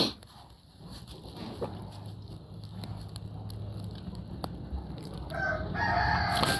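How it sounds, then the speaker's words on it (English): A small silkie chicken, soaked from rain and huddled to stay warm, gives soft rooster-like calls and clucks amid steady low background noise, with brighter bird sounds rising near the end. "here's our little silky chicken that was completely soaked in the rain yesterday"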